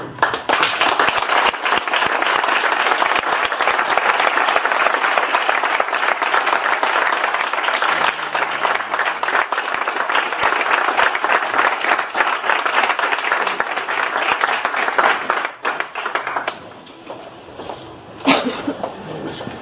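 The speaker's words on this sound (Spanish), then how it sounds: "Sobre todo el aplauso es para él." Sustained audience applause after a talk at an event on mysteries of the past, dense and steady clapping from a full room for about fifteen seconds before thinning out to scattered claps.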